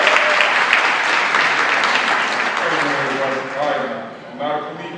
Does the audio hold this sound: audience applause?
yes